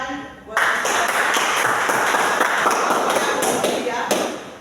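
A classroom group breaks into applause after a student presentation, a dense burst of clapping that starts sharply and carries on evenly for several seconds, with voices mixed in.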